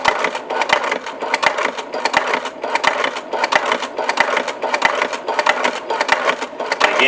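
A sewing machine running a straight stitch on a double magazine pouch, guided along the presser foot, with a continuous loud, dense mechanical chatter and evenly spaced heavier knocks throughout.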